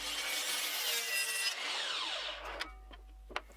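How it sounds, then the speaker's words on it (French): A miter saw whines and grinds through beech wood for a couple of seconds, then winds down, followed by a few faint clicks and knocks. "je vais utiliser ma scie à onglet"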